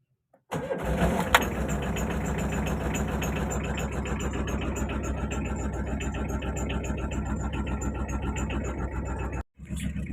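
A car engine cranks and catches after a short silence, then settles into a steady, loud idle that runs on before a brief dropout at the very end.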